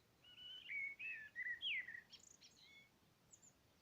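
Songbirds sing in the rain, with clear whistled phrases and chirps rising and falling over a soft, steady patter of rainfall, fairly distant and gentle.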